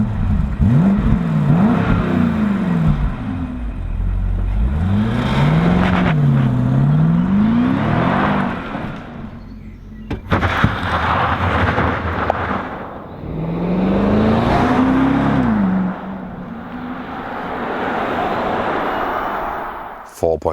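A BMW X5 M50i with a 4.4-liter V8 accelerates hard, its engine note climbing and dropping through several gear changes, a loud, steady roar with a brief pause midway.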